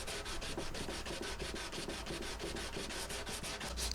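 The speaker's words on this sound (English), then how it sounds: "I'll start off with a little 80 grit on a radius block." Continuous rhythmic scraping of 80-grit sandpaper on a 20-inch radius block across the wood of a 1987 Gibson J-30 guitar, close and steady with regular strokes throughout.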